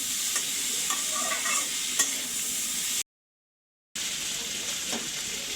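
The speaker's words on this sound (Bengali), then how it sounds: "আলু দেওয়ার পর একটু ভেজে নিতে হবে এভাবে মশলার সাথে" Potatoes fry with spices in a pan for a potato-and-tomato dish, giving a steady close sizzle with occasional stirring scrapes and a brief gap of silence partway through.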